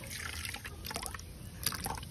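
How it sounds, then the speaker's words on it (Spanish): Coconut juice mixed with a little water being strained, soft liquid trickling and dripping close by, quiet and uneven with small splashes, no talking. "vamos a sacarle el zumo al coco, le agregamos un poquito de agua y colamos"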